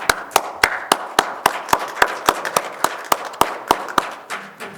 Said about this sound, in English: I want to give you guys a round of applause for what you have done in the last 6 months